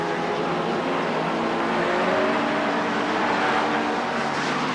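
Touring race cars from the 1990 British Touring Car Championship at Thruxton driving through the chicane, a loud continuous engine roar with shifting pitch that swells slightly midway, heard without talk.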